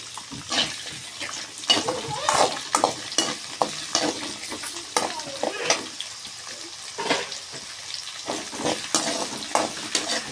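Garlic and ginger sizzling in a hot pan while being stirred, with irregular scraping clicks of a spoon over a steady frying hiss, close and fairly loud.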